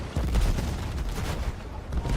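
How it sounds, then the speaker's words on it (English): Battlefield 6 combat with dense explosions and rapid gunfire, a loud continuous barrage of booms and shots layered without pause throughout. "Lots of explosions."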